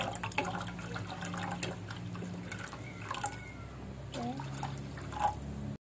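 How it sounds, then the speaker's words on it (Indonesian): Water runs and splashes as it is poured from a tap into blended ginger, a continuous trickling with a few drips, fairly faint against quiet background sounds. "Airnya kita tambahin sampai dengan kira-kira aja."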